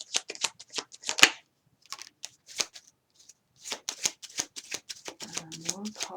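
Tarot cards are shuffled in quick, crisp riffling bursts up close, with short pauses between flurries and a faint voice-like tone near the end.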